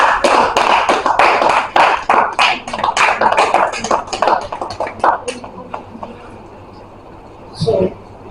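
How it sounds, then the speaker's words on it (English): Audience at a creative economy event clapping to welcome a speaker, a dense burst of close applause that thins into scattered claps and dies away, with a voice briefly heard near the end. "I clap as I call the person."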